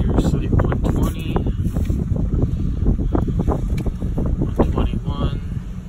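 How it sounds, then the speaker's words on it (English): Breezy wind at a lakeside campsite on Muskallonge Lake in Michigan's Upper Peninsula, loud gusty buffeting against the microphone in uneven bursts throughout. "You can tell that it is really breezy down on these sites."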